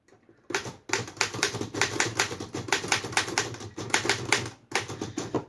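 Typing on a 1935 Royal KMM manual typewriter, a quick run of sharp, close mechanical key strikes and clacks in irregular bursts with brief pauses between, loud and alone without any talking.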